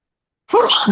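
A single sharp human sneeze bursts out after half a second of silence, loud and close, with no talk around it in the moment.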